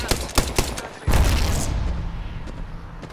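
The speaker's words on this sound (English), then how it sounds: "Shots fired at me" Gunfire from the Apex Legends battle royale game: several sharp shots crack early, then a heavy burst of fire rolls into a sustained, loud rumble that slowly fades.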